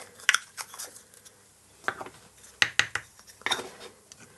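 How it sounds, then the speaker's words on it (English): Small glass kiln stilts are gathered from a fused glass workspace, making sharp, bright clinks and taps in scattered clusters with quiet gaps between them, close by and with no voice. "Get rid of my glass stilts."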